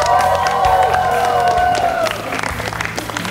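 Audience applause and cheering for contestant Ani Petrosyan at a televised gala show, a dense wash of clapping and crowd noise that starts over fading music and carries on steadily to the end.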